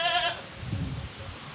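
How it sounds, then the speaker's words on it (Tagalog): A goat penned on a farm gives a short, quavering bleat at moderate distance, followed by low rustling and background noise, with no talking. "Yung kambing natin nandoon."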